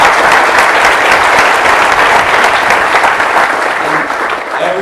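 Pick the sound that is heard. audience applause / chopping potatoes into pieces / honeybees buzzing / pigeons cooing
audience applause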